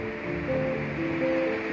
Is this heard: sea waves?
yes